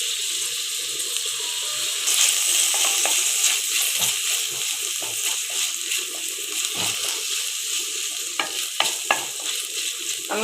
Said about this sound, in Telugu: సన్నగా కట్ చేసిన పుదీనా వేస్తున్నాను. కొద్దిగా కరివేపాకు కూడా వేసి వేయించుకోవాలి.